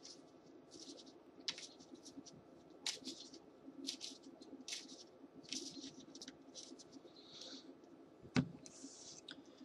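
Magic: The Gathering cards for a mono-black devotion deck are shuffled by hand, giving a quiet, steady patter of soft clicks and riffles with one sharper knock near the end, and no voices.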